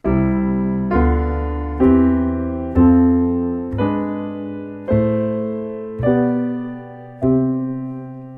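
Piano notes climb one at a time in a steady ascending harmonic minor scale, each struck clearly and left to ring into the next, with no voices.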